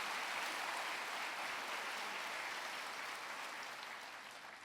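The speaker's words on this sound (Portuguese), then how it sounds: "Vamos aplaudir ao Senhor." Sustained applause from a church congregation during a sermon, a dense, even wash of clapping that fades slightly toward the end, heard alone without talk.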